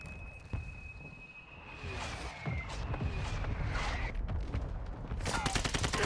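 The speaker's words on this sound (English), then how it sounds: "Friendly mortar strike on the way." Mortar strikes land in Call of Duty Warzone 2.0 as a burst of distant booms and rapid crackling gunfire, ending in a dense, loud volley, with a high whining tone running through the opening seconds.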